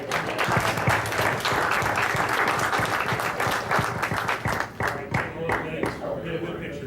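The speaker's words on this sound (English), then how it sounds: "How about a round of applause for the golf?" An audience applauds at a school board of education meeting, a sustained round of clapping from the room that thins out toward the end, with voices talking over it.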